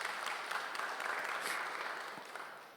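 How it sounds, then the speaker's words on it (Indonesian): Church congregation applauding Pastor Mike, a dense steady clatter of many hands from a crowd, holding level before slowly fading. "Boleh gak kasih tepuk tangan sekali lagi buat Pastor Mike"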